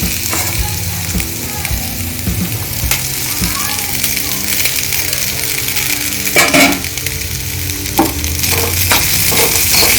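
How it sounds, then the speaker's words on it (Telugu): Rice being stir-fried in a pan with ginger garlic paste for a capsicum and potato masala curry, a steady loud sizzle with scraping stirs and occasional clinks of a utensil against the pan throughout. "ఇవన్నీ కొంచెం ఫ్రై అవ్వాలి ఇప్పుడు ఫ్రై అయిపోయింది కదండి ఇప్పుడు దీనిలో రైస్ యాడ్ చేసుకుందాం"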